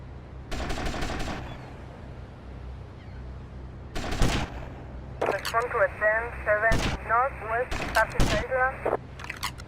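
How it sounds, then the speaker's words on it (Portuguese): Gunfire between characters in the video game GTA Vice City: bursts of automatic shots early, a loud volley near the middle, then sharp repeated cracks over a rising whistling, warbling game noise. "estão atirando um no outro"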